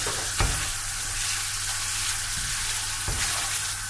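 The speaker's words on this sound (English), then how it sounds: "put the mushrooms, crispy mushrooms, back into it, stir it round" Crispy pulled mushrooms are stirred back into sauce in a hot pan, making a steady, close sizzle with a couple of brief scraping accents.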